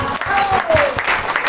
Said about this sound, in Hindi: तालियां दोस्तों पीछे से